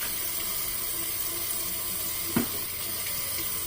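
Water runs steadily from a bathroom tap for rinsing after a shave with a King C Gillette double-edge safety razor, a constant hiss with one brief splash or clunk near the end.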